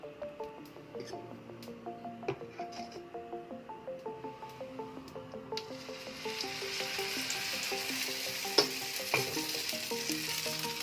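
Dosa batter poured onto a hot pan sizzles close by, starting quietly under light scraping and then swelling into a steady, loud hiss that holds to the end, with no talking.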